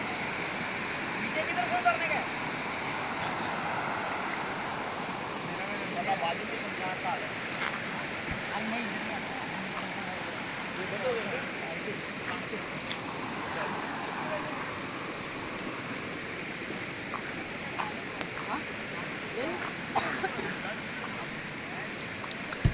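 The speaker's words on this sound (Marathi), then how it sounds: "जण बघू शकता बघा हेच ती नदी" A river in the Konkan region flowing as a steady, broad rush of water that runs continuously throughout, with faint wind and occasional small knocks.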